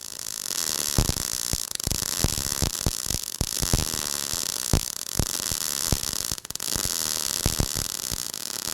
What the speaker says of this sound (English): I'm gonna go ahead and get set up and start welding this out